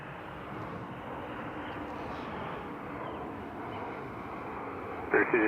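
A jet airliner at Toronto Pearson airport rumbles with a steady, broad engine roar held at an even level throughout, a brief sharper burst near the very end.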